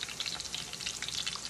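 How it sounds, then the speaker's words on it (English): Turkey wings fry in a mix of cooking oil and bacon grease, giving a quiet but busy crackling sizzle with rapid popping bubbles that continues steadily throughout. "next I'm going to drop the wings in the cooking oil"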